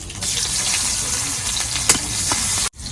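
Fish frying in a pan, a loud continuous close sizzle with a sharp crackling spit near the middle before it cuts off abruptly.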